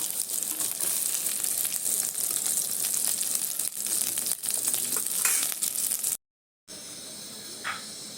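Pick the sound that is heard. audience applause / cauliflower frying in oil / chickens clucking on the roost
cauliflower frying in oil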